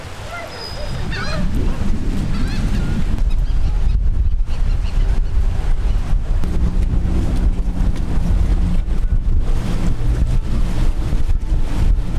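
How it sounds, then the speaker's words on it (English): Strong wind of about 20 knots on open water during a fishing trip roars and buffets the microphone continuously and loudly, with a few faint voices early on. "it's really windy out here"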